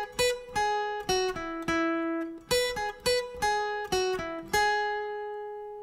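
A clean electric guitar plays a short plucked riff, single notes picked in a steady rhythm with some ringing out, repeated phrase, no talking.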